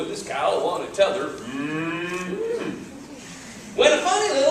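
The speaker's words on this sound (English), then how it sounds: "So Jack headed out with his cow on a tether." A cow lets out a drawn-out low moo in the middle, fairly close, between stretches of people talking.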